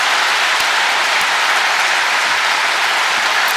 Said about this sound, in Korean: 귀한 말씀 청해 주신 박용만 식당 회장님께 큰 박수 드리겠습니다